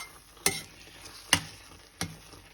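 Three separate scrapes of a utensil stirring Maggi noodles with Maggi masala in a pan, evenly spaced and fairly quiet over a faint background hiss.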